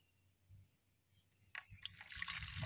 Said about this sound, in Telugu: సో ఇప్పుడు నేను దీంట్లో వాటర్ పోస్తాను